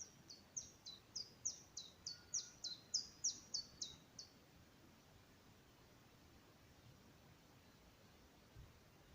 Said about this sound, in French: avec le chant des oiseaux